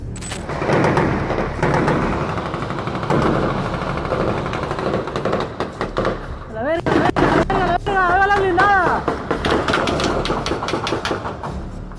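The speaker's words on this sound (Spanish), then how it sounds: "Resulta aterrador escuchar ese nivel de estruendos y esa cantidad de disparos" Rapid bursts of gunfire and heavy booms from a firefight between a soldier and cartel gunmen crackle in sharp irregular volleys, loud and close, with a voice talking underneath throughout.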